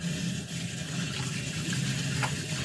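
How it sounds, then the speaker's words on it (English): Water runs steadily from a tap into a sink, a continuous close gushing hiss lasting the whole moment with no voices over it. "Excuse the running water."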